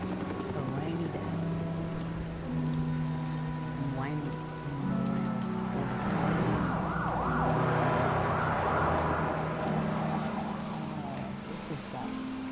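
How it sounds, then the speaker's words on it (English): Steady rain falls in a city alleyway in the video game Batman: The Telltale Series, a dense even hiss throughout, with a wailing siren and low musical tones beneath it and a voice speaking briefly partway through. "It's a rainy day."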